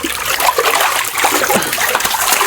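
A large catfish being washed by hand throws up constant close splashing and sloshing water, with dribbles and splatters running through the whole stretch.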